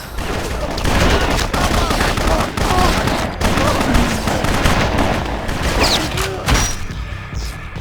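Rapid gunfire from an assortment of guns in BloodRayne, dense overlapping bursts and shots filling the scene, loud and continuous with a little faint talk mixed in.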